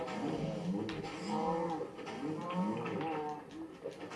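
Several cows in the video game Minecraft Dungeons moo in drawn-out, wavering calls, one after another, fairly quiet, with voices or other noises faintly in the background.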